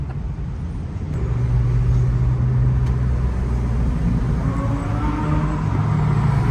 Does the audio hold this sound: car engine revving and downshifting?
yes